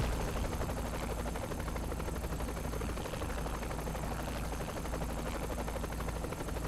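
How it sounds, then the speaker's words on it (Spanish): Helicopter in the game Saints Row The Third Remastered: a loud, steady rotor and engine roar that holds for the whole stretch without pause, close and dense, with no talk over it. "El sonidito del helicóptero."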